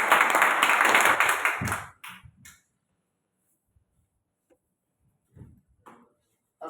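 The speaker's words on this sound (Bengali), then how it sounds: "আমাদের করতালির মাঝে আমাদের লিডারকে আমরা স্টেজে আসার জন্য অনুরোধ জানাচ্ছি।" An audience claps in welcome as a leader is called onto the stage at a company gathering, a dense burst of applause for under two seconds before it stops abruptly, then a few scattered sounds.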